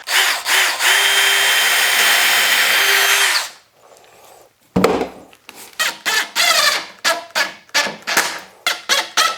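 A power drill drives screws into a cedar planter box, first with a long steady whine, then a pause and a series of short, loud, close bursts as each screw goes in.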